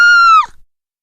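A woman's sudden high-pitched scream in a narrated Hindi horror story, loud and sustained for under half a second before cutting off into silence.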